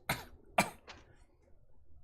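Two quick coughs followed by a softer third, close and brief, with near silence around them.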